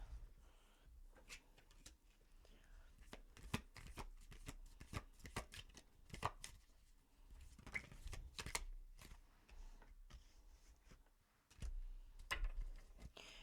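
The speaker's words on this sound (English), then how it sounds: "Spirit's just chucking cards out." Tarot cards shuffled by hand at close range, a busy run of quick riffling flicks and soft slaps with brief pauses, several cards spilling out at once.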